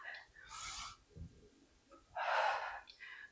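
A single push-up exhale, a breathy rush of air, sounds twice: a short puff near the start and a louder, fuller outbreath later, up close between quiet pauses.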